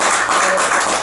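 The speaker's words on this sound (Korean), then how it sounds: "다시 한번 격려 박수 할까요?" A church congregation claps in encouragement for a pastor, a short dense burst of many hands clapping with no talk.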